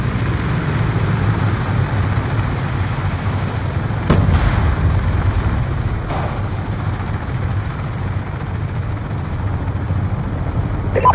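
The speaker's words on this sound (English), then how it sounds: "Hunter killer drone deployed" Hunter killer drone in Call of Duty Black Ops 2, a steady low engine drone and airy whoosh flying throughout, with a couple of sharp impact bursts partway through amid game battle noise.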